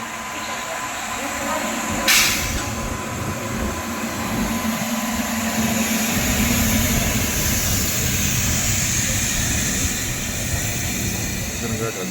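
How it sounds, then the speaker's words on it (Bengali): Sleeper class train running after leaving Ayodhya station, giving a steady loud rumble and rattle with a hissing wash, a brief clank early on, and people talking under the noise. "আমাদের ট্রেন কিন্তু अयोध्या सेंट्रल থেকে ছেড়ে দিয়েছে"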